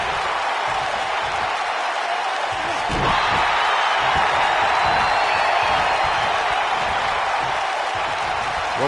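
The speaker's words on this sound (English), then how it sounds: "Listen to this crowd." A large crowd in a wrestling video game roars and cheers continuously, swelling louder partway through, with scattered thuds and impacts beneath the noise.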